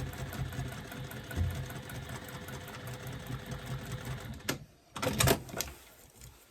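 A sewing machine stitches a zipper pocket seam on the lining, giving a steady close whir that drops out for a brief pause and then starts up again in short bursts of backstitching, with no talk.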